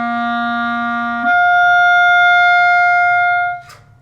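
A clarinet sounds a sustained low C, then jumps cleanly to a brighter upper-register G held for about two seconds before stopping, both notes loud, steady and solo.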